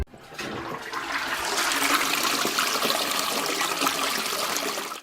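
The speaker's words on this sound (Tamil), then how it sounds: "அப்போ அவங்க எதிர்பார்த்தபடியே டாய்லெட்டை ஃப்ளஷ் பண்ணுற சத்தமும் கேட்குது." A toilet flushing nearby in a house at night, a sudden loud rush of water that swells and holds steady for several seconds before tailing off, heard alone without any voices.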